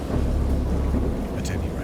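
Low rolling thunder rumbles steadily through a storm in the Lovecraft horror game Dagon, a continuous deep roar with a brief brighter crackle near the end.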